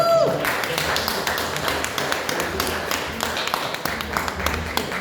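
Audience applause at a Nigerian Yorkshire community Christmas party, a dense, steady patter of many hands clapping close by for the full stretch, with a brief whoop near the start and faint voices mixed in.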